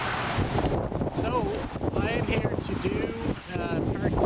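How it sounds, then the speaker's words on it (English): Strong wind blows outdoors beside a road, buffeting the microphone with a loud, continuous roar and gusty rumble while a person talks over it. "Whoa, it's windy"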